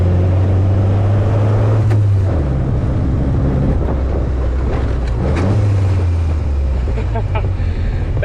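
A small Austin 7 Cambridge Special with a full synchro gearbox drives along, its engine drone steady and close, shifting pitch as gears change, with road and wind noise around it.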